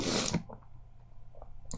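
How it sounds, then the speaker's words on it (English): A single sharp sneeze bursts out up close, followed by quiet room tone and faint rustling. "I thought there might have been a sneeze coming."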